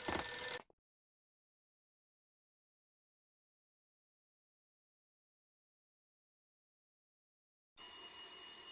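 An old, beaten-up telephone rings in the entrance hall of a Max Payne game level, a loud burst of bell ringing at the start, then silence, then another ring near the end.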